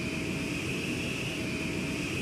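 An airliner rolls down the runway after a smooth landing and taxis toward parking beside a 737, its engines giving a steady, loud broadband roar with a faint high whine, unbroken throughout.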